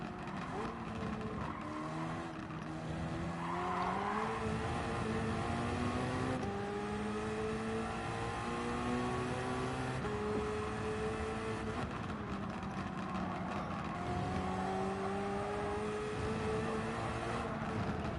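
Race car engine in Gran Turismo 7 at Le Mans during a Nations Cup final lap, a loud steady high-revving drone with rising gear pulls and shifts, continuous throughout.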